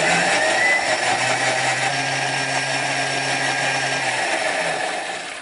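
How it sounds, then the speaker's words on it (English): A high-speed blender whirs spinach, basil and plenty of oil with a loud, steady, close roar that holds for several seconds before easing slightly at the end, with no voices. "So this is a high-speed blender."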